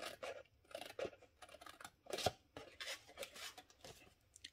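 Scissors snipping through cardstock while a reinforced Stampin' Up box is cut out, a series of close, crisp crunching cuts at an irregular rhythm, with no talking.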